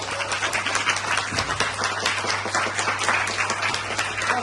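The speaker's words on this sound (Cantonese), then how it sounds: "俾呢啲掌聲" A crowd of audience members applauds in dense, sustained clapping that stays steady and fairly loud from start to finish.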